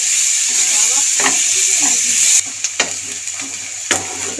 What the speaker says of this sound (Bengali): গরম তেল আর বাটারের মধ্যে দিয়ে দিলাম রসুন কুচানো, তার সাথে পেঁয়াজও হালকা করে নেড়ে চেড়ে একটুখানি ভেজে নেব